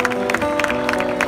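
Concert crowd at a Feast of the Immaculate Conception street show in Castellammare di Stabia claps, a steady wash of applause with a tonal hum from the stage sound system underneath.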